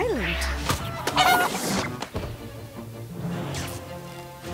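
Chickens cluck in the South Park Phone Destroyer mobile game during a PvP match, short fowl calls mixed with game music, effects and voices at a steady busy level.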